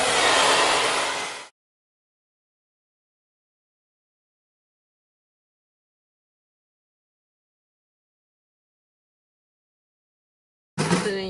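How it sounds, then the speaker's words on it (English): A blow dryer aimed at a wet glueless wig lace roars loud and close for about a second and a half, cuts to silence, then briefly starts up again at the very end. "And take a blow dryer."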